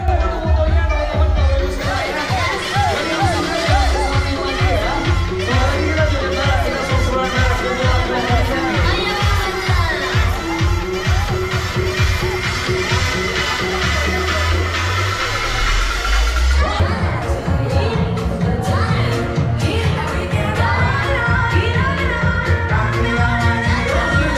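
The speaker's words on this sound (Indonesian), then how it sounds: "Riuh tepuk tangan dan alunan musik menambah semarak suasana" Loud, continuous dance music with a steady thumping beat and a lively crowd at a gangster-themed dance parade in a transport museum park, with cheering and clapping mixed in throughout and a brief dip and restart of the music partway.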